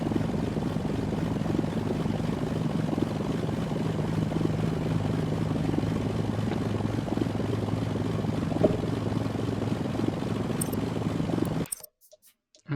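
A propeller airplane engine drones in the SimplePlanes 2 game, a steady buzzing hum with a faint tonal whine held for about eleven seconds before cutting off abruptly into silence.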